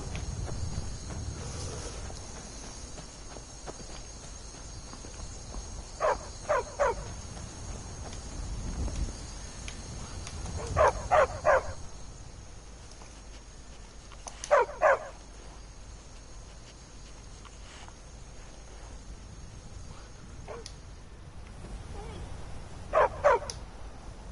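Dog barking in the video game Skyrim: four short bursts of two or three quick barks each, spaced several seconds apart, over a low background rumble with faint movement.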